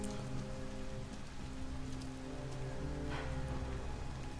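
Steady rain falls in the video game Detroit: Become Human, a constant even patter on surfaces with no voices over it.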